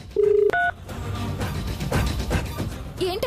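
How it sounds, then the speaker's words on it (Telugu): A telephone is dialed: a few short electronic keypad tones in quick succession, followed by indoor background sound and a brief tonal blip near the end. "ఉండండి, స్వర్ణకి ఫోన్ చేసి అడుగుతాను."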